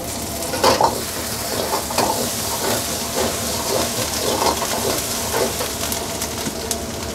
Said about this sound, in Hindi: और ऑयल गरम हो जाए उसके बाद हम इसमें लहसुन डाल देंगे गार्लिक और फिर छोटे छोटे कट के हुए जिंजर डाल देंगे